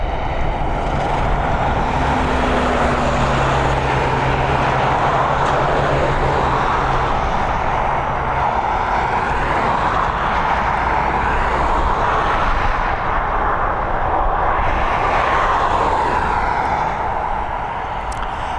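An Airbus A320neo jet takes off from Dublin Airport bound for Munich, a loud, steady engine roar that holds throughout with no voices.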